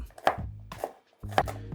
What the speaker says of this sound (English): Once you have them all smashed, then we're going to go ahead and start chopping them up.